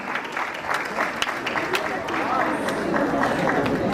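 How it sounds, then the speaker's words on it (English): A school group receives a loud round of applause at an on-stage competition event, dense clapping from a large crowd sustained throughout with some cheering and chatter mixed in. "Can we please have a loud round of applause for Jayashree Periwal International School?"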